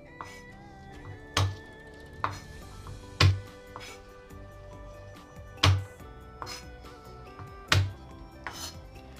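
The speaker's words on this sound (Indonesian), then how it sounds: "Untuk bawang putih saya geprek saja." Garlic cloves smashed flat with a blade on a cutting board, several sharp, isolated thumps spaced a second or two apart, close and fairly loud against a quiet kitchen background.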